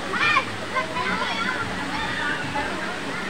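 Cold running water at Balite Falls in Amadeo, a steady rushing wash with splashes, mixed with voices of people and children playing in the background.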